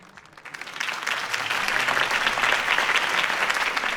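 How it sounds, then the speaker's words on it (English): Crowd applause in a Gotham political rally scene from Batman: The Telltale Series, following Harvey Dent's campaign speech; the clapping swells from a quiet start into a dense, steady ovation that fills the space. "If only Mr. Wayne, my campaign's largest backer, could have heard that applause"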